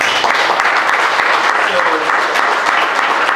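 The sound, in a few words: audience applause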